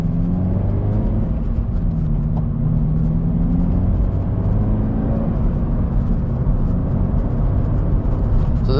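Car fitted with an aftermarket exhaust driving over a bumpy road, a steady low rumble and drone from the cabin that holds throughout without any talking.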